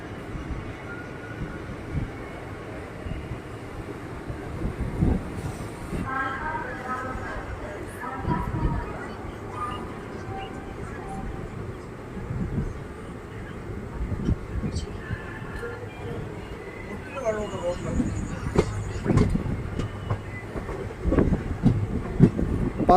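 A MEMU train stands on the adjacent track at Palakkad Town railway station, bound for Coimbatore, giving a steady low rumble with occasional clanks and rising mechanical noise toward the end, heard under a man's speech.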